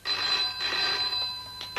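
A telephone bell rings loud and close in a continuous shrill trill that stops briefly, then starts again near the end, with no voices.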